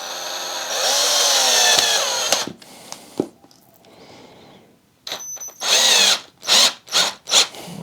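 A power drill drives a screw through rubber into a 13 kg combat robot, with a long, loud whine first, then a quiet pause of handling noise, then several short, sharp bursts of drilling close by.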